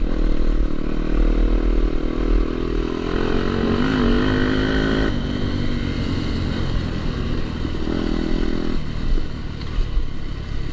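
A Yamaha YZ250FX dirt bike engine running close by, a steady loud drone with small shifts in pitch and some rattling clatter, no voices.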